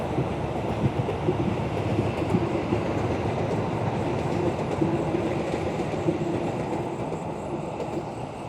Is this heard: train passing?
yes